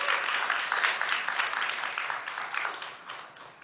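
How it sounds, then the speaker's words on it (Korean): A church congregation claps together in welcome during a worship service, a steady crowd applause that slowly thins out, without talk over it. "let's give a round of applause as we worship and welcome one another"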